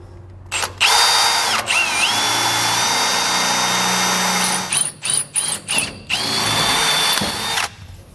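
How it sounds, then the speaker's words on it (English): A power drill whirs loudly boring through the metal bed of a 2010 Ford truck, stepping up to a 1/2-inch bit, a long steady bore followed by short bursts of trigger pulses and another sustained run. "We're just going to drill it in and kind of work our way up to that 1/2-inch bit."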